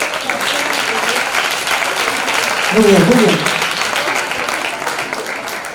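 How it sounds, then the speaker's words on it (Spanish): Studio audience at a televised celebrity impersonation show breaks into sustained applause, loud and dense throughout, with a voice speaking briefly over it near the middle. "un aplauso enorme para todos"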